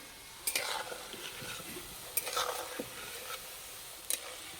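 Ripe mango nadu frying in a pan while being stirred, a low steady sizzle broken by a few sharp scraping clinks of the spatula at irregular intervals, with no talk.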